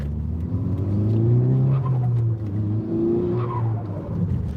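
A car rolls steadily around a roundabout, its engine droning at a constant pitch with gentle rises and falls as it turns, road and cabin noise filling the background throughout.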